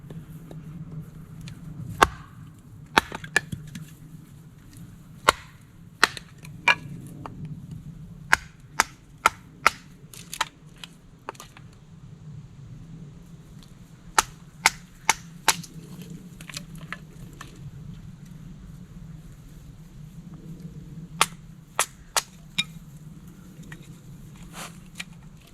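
A Fiskars axe splits kindling wood at a campsite with many sharp, loud chops at irregular intervals, sometimes clustered in quick runs. Faint background rumble lies between the strikes and no one speaks.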